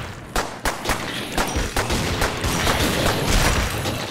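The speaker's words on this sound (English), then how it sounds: "Man, I can hear your gun. It sounds puny." Rapid gunfire from a player's weapon in a Minecraft take on Call of Duty zombies on the Verruckt map, a dense stream of sharp, fairly light shots in quick uneven bursts, loud and close with more shots layered behind.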